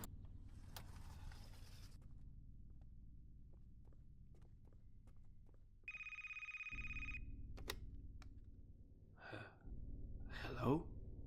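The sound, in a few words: telephone ringing in video game Quintus and the Absent Truth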